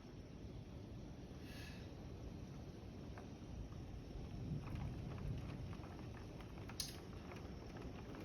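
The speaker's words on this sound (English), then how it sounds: "watching the weather as the rains are coming down. It's really storming out here" Heavy storm rain pours down steadily outdoors in Leander, Texas, a continuous dense wash of noise with a brief sharper patter near the end and no talking.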